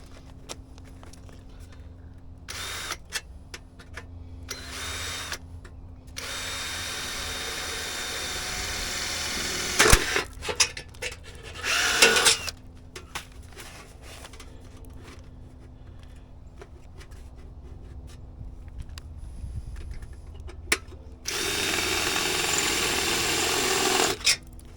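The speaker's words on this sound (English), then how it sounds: "So I'm going to drill a hole right here." A power drill bores a hole in bursts, several whining runs of a few seconds each separated by pauses, with handling clicks between them while making a poultry kill cone.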